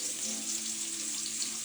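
Sautéing in a pan while cooking adobong dahon ng ampalaya, a steady close sizzle with a faint hum beneath it, brief and without speech.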